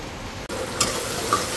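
Tomato, onion, green chili, turmeric and salt sizzling and being stirred in a pan, a short burst of frying hiss with scraping stir strokes, close and alone.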